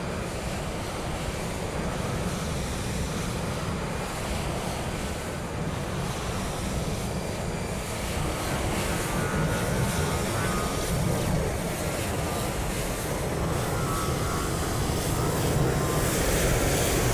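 Airliner engines roar at London Heathrow in Microsoft Flight Simulator 2020, a steady broad rushing drone that holds level throughout and swells slightly toward the end, with no voices.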